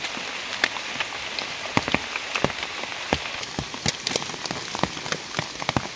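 Steady rain falls on a forest during mushroom foraging, a dense patter broken by close, distinct drops striking the surface throughout, with no voices.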